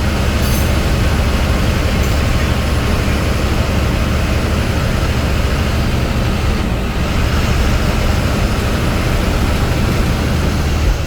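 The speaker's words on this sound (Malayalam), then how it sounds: "ഷൊർണൂർ വഴി കടന്നു പോകുന്ന ഒരു ട്രെയിൻ ഇടതു സൈഡിൽ കാണാം." A train passes near Shoranur in Kerala, heard from inside a moving vehicle as a loud, steady rumble and rushing roar that holds for the whole stretch.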